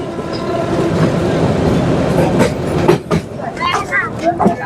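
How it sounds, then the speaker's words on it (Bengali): A commuter train from Dhaka to Narayanganj rumbles steadily along the tracks with a continuous low roar and rattle, while voices talk over it. "এই প্রথম এরকম কমিউটার ট্রেন ভ্রমণ করতেছি"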